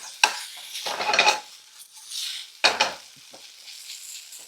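Food sizzles in a pan while smoked salmon penne pasta with vegetables is cooked, with sharp bursts of stirring and cutlery scraping and clattering against the pan, close and loud with pauses between.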